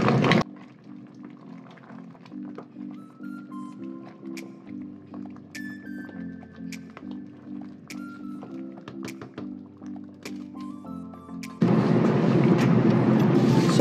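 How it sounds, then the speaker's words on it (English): Ogbono and okro draw soup with crayfish bubbles and simmers in a pot, a steady rhythmic burbling heard close, joined near the end by a louder rush of stirring or frying noise. "Give it a good stir."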